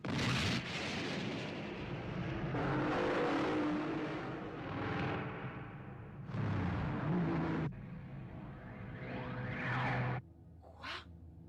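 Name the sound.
car driving off in an animated series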